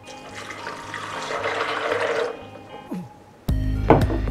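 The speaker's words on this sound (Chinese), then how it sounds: "跟住再将水倒落搅拌机度啦" Water pours steadily into a blender jar, a soft continuous splashing that fades out. A louder knock and handling noise follows near the end.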